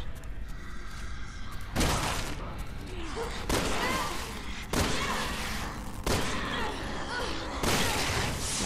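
Gunfire in the video game Resident Evil 6, several loud bursts of shots spaced a second or so apart over a steady game backdrop, with faint talk underneath.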